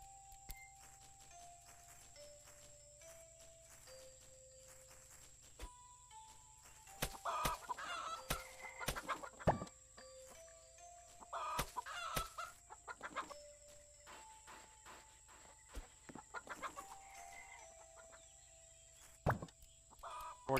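Chickens in the video game Garden Paws cluck in short, scattered bursts over soft, quiet game background tones and a gentle melody, with no talking.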